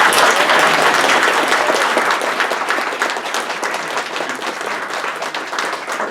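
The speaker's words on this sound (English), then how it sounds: "Everybody, please, a big round of applause for Paul." Loud, close applause from a lecture audience, a dense roar of many hands clapping that starts strong and gradually tapers off over several seconds.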